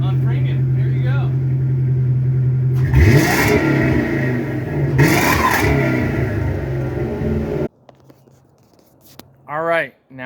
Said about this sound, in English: got one more engine that we're gonna rev up for you so you can hear what it sounds like